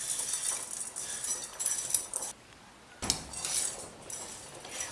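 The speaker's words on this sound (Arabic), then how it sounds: "نخلطها فكرة الزيت مع الكركم." A spoon scrapes and clinks steadily inside a bowl while oil and turmeric are mixed for steamed chicken vermicelli, close and bright, pausing briefly midway before the scraping resumes.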